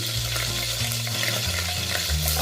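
Onions and green chilies sizzle in hot oil in a pan, a steady close frying hiss with occasional stirring scrapes and soft bubbling, no one speaking.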